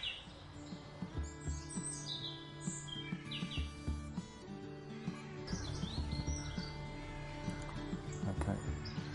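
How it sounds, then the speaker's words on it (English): Robins singing in a garden, with scattered clear chirps and whistled phrases at moderate distance over faint background noise. "I can hear robins singing already."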